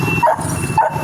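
Two dogs give a pair of sharp, loud barks close by, spaced a little over half a second apart over low background rumble.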